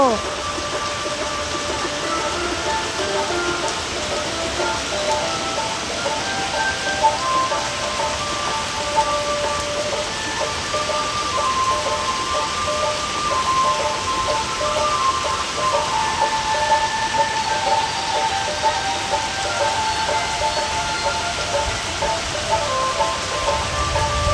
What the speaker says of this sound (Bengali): এই প্রথম আমি এরকম দশমীর দিন বৃষ্টি দেখছি বাবা